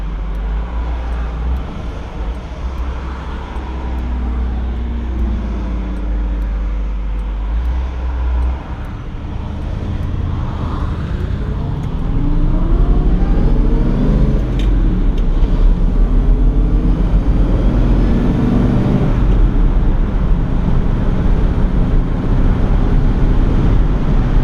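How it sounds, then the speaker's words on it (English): A 1959 Chevrolet Bel Air cruising on Woodward accelerates through each gear at about quarter throttle, a steady low engine rumble with road and wind noise that swells louder partway through, no talking. "Was about a quarter throttle acceleration through each gear."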